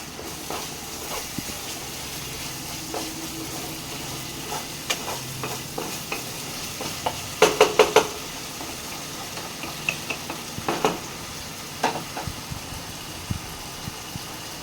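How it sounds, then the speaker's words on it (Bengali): Spice paste with garlic frying in a pan for a fish curry, a soft steady sizzle with scattered clinks and scrapes of stirring, several louder clatters midway, no talk. "মশলাটা খুব ভালো করে ভেজে নেবো"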